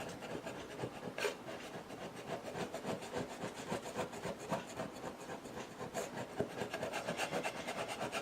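Steady, continuous rasping and rubbing as a paper label is scraped off a vinyl record, close and even in level, with a few sharper scratchy strokes standing out.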